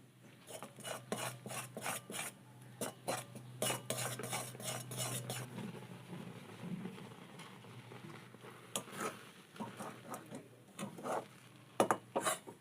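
Rice flour being stirred into boiling water in a wok for kodom pitha dough, heard as repeated close scraping and rubbing strokes of a utensil against the pan with a low steady hum beneath.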